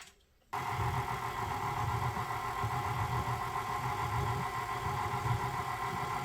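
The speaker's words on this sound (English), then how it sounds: "So let's beat this egg for about 30 seconds." A KitchenAid stand mixer starts abruptly and beats eggs, a steady close motor whir with a rhythmic churning layer that runs unbroken to the end.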